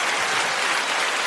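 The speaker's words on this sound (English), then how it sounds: "Give yourself the little fake applause" A short burst of canned applause, a steady dense patter of clapping heard alone at moderate volume.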